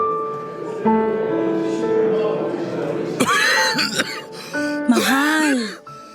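Person coughing in a dramatized domestic scene, several harsh throaty coughs and strained gasps arriving in two clusters over a sustained background tone.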